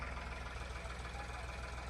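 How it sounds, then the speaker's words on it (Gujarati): A tractor engine runs in a groundnut field with a steady, close, low mechanical drone and a faint rhythmic knock, with no pauses. "અત્યારે ટ્રેક્ટર ચાલી રહ્યું છે"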